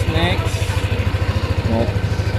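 A 2021 Yamaha Aerox scooter engine idles with a steady, rapid, throbbing putter, loud and close, while a person talks over it.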